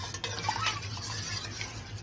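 A spoon stirs yeast powder into lukewarm milk in a bowl for bread dough, giving soft, steady scraping and clinking close by, with no talking.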